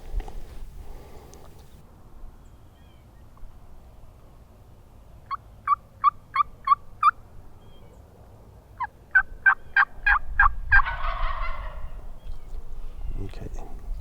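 Wild turkeys gobbling outdoors during a gobbler fight on public land, two separate bursts of rapid rattling gobbles, the second louder and more overlapping, sounding somewhat distant downhill over faint ambient noise.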